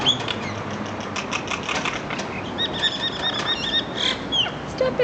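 Birds fight at close range, with bursts of rapid wing flapping and scuffling mixed with short, high squeaky calls.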